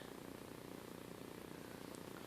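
A house cat purring close by in a quiet indoor setting, a faint, steady rumbling drone that runs throughout with no talking over it.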